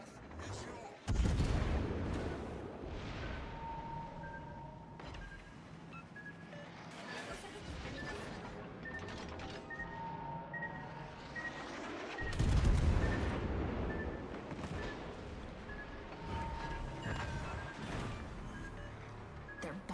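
Warship naval guns firing in a video game, heavy booming salvos with two big blasts and steady rumbling, crashing impacts, while a person talks over the battle noise.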